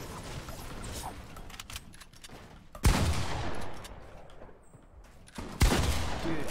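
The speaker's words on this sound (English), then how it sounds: "I was trying to go for the hunting rifle shot" Two loud hunting rifle shots from Fortnite Battle Royale, a few seconds apart, each a sharp crack with a short reverberant tail, set against busy mechanical clicks and game noise.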